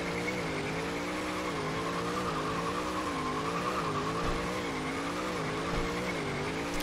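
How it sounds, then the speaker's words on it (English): A drift car in the Full Throttle racing game slides with a steady wavering engine drone and continuous tire squeal, loud and unbroken throughout with no talking. "You can drift like a nut up here."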